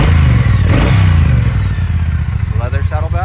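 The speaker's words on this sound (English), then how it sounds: "The 1200 fuel-injected engine runs very nicely." A 2020 Triumph Bonneville T120 with a 1200 fuel-injected engine idles and runs close by, giving a loud, steady, throbbing mechanical rumble that continues for the whole stretch.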